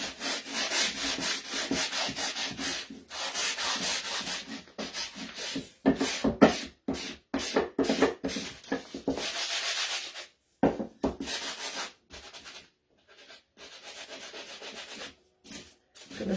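Sanding wooden gingerbread men decorations by hand. Close, rhythmic back-and-forth rubbing strokes run in bursts and turn into shorter, choppier strokes with pauses toward the end.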